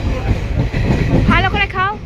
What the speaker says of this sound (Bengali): এই দেখো আমরা ট্রেনের উপরে উঠে পড়েছি